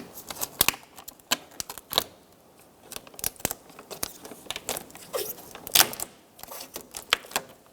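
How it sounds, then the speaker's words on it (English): Plastic sheeting with black sticky adhesive is peeled back from the inside of a 2012-2016 Subaru Impreza door, heard as close, irregular crackles and tearing snaps with short quiet gaps between them. "We're just going to carefully peel back the plastic."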